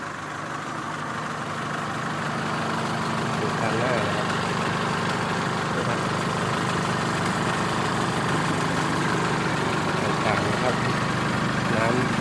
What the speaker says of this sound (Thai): เดี๋ยวเครื่องยนต์นิ่มมากนะครับผม